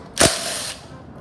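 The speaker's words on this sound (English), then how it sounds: "I finally got me an impact because I was trying to do this with a drill and it just didn't work" An impact wrench zips loose a rusty bolt on the engine of a barn-find Baja Warrior minibike. One sharp, loud, close burst is followed by a short fading whir, then quiet.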